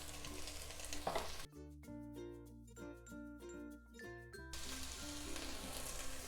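Carrot and beans frying in a pan with ginger garlic for veg pulav, a close steady sizzle broken by a stretch of clinking and rhythmic stirring before the sizzle resumes.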